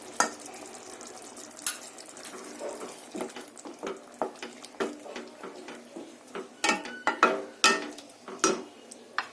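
Rice flour is stirred into a pot of raw banana pulusu, a tamarind, jaggery and spice stew, with a run of uneven scraping, clinking spoon-on-pot strokes, close and fairly loud, and no talking.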